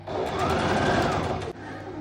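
A sewing machine runs steadily while stitching blouse fabric for a halter cover neck blouse, a loud continuous whirring drone that stops abruptly near the end and then resumes more softly.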